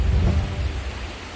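Heavy rain pours down in Bageshwar, a dense, loud wash with deep low rumbling of thunder at the start that fades slightly as the downpour continues.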